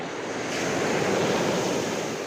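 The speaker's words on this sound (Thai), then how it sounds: "คลื่นลมก็แรง" Strong ocean surf and wind on a Phuket beach, a continuous loud wash of breaking waves with gusty wind noise across the microphone.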